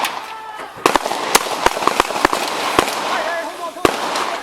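Police open fire during a San Diego shooting: a rapid, irregular string of sharp, loud gunshots at close range, mixed with shouting voices.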